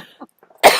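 One sharp, loud cough bursts out close to the microphone during a podcast recording, preceded by a brief hush and faint voice fragments.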